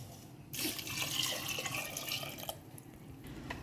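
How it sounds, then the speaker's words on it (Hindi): Water is poured into a cooking pot for moong dal, making a steady close splashing rush for about two seconds before it tapers off to drips. "तो अब ना पानी डालते हैं"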